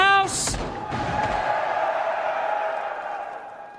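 A crowd at an esports match, Rebellion playing, roars and cheers loudly after a sharp slam-like hit, then the broad cheering slowly fades over a few seconds.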